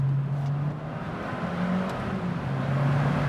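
A Fiat Abarth 595 Competizione accelerates hard, its engine note rising and falling through the revs under steady road and cabin noise, fairly quiet and continuous with no voices.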